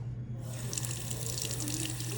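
Hot water runs steadily from a tap into a sink, a constant close rushing splash with no voices.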